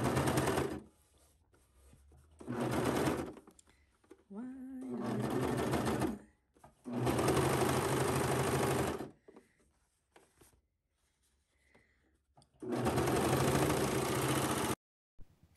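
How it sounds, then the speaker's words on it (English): A coverstitch sewing machine runs in three loud bursts of steady stitching, each a few seconds long, on the pocket of a pair of leggings. The bursts alternate with quiet handling sounds and a brief soft voice. "I'm going to take my seam ripper and redo the cover stitching on the other pocket"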